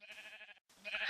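Two short bleats from a Minecraft sheep, close and moderately loud, separated by a brief silent gap.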